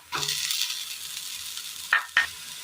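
Sliced onion and grated coconut sauté in a hot pan for a Kerala dish, a steady close sizzle with two sharp scrapes of a spoon stirring near the end, and no talking.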